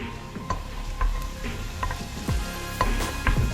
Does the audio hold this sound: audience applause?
no